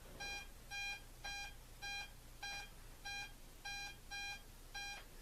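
Metal detector responding to a 1941 wheat penny, giving a clear, repeatable high electronic tone, ten short identical beeps in a steady even rhythm, close and fairly loud over a faint low hum.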